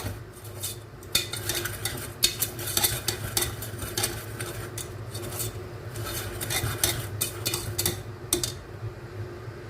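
Ingredients for a Norwegian-style salmon steak dish are stir-fried in a pan, with a steady soft sizzle under repeated scraping and clattering of a utensil against the pan, close up and without speech.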